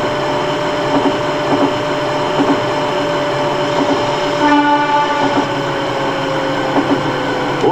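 A JR 221 series train on the Kyoto Line in the Densha de GO! game, rumbling steadily with a continuous tonal hum and a brief brighter whine partway through, loud and close with no talking.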